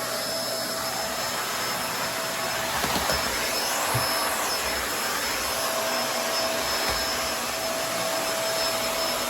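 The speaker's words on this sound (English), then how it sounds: "Nice, big and bulky vacuum cleaner." A Kenmore DU2015 bagless upright vacuum cleaner motor drones steadily at close range with a loud, broadband whir and a constant high whine, with no voices.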